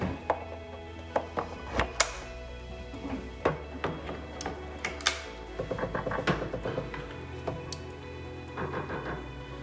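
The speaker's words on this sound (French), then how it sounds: "je vais brancher les lyres, voir combien de temps elles mettent à s'allumer" Betopper LB150 moving head lights being plugged in and powering up, giving a close series of irregular mechanical clicks, thunks and ratcheting motor noises as the heads reset and move.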